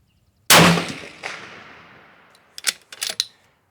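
A Howa 1500 rifle in 6.5 Creedmoor firing a 42.5 handload: one loud, close report with a long decaying echo, followed by a quick cluster of sharp clicks and clatter from the action.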